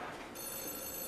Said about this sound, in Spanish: tengo que ir a contestar el teléfono